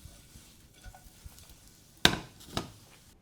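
Egg fried rice gets stirred and mixed in a pan rather than a wok: soft scraping and rustling, then two sharp utensil clanks against the pan close together near the end.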